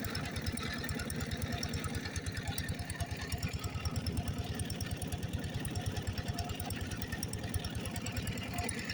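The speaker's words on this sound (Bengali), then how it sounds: "মোটরসাইকেল নিয়ে অনেকেই ঘুরতে আসেন।" A motorcycle engine idling with a fast, even putter, steady and moderately close, with a faint hum running underneath.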